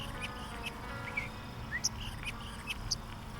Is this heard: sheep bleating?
no